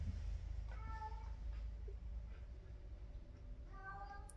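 A female cat in heat lets out long, drawn-out yowls, one near the start and another at the end, over a low steady background hum.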